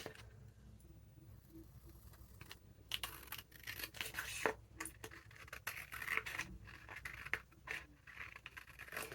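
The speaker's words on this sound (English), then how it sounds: "it takes me a lot of concentration to cut in a straight line" Scissors snip and scrape through paper while a giant playing card is cut out, leaving faint, close, irregular scratchy cuts with small pauses in a quiet room.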